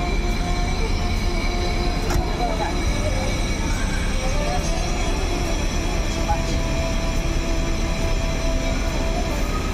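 A bus leaves Kampung Rambutan terminal, its engine rumbling loud and close with a constant low drone, rattles and faint squeals, and voices murmuring underneath.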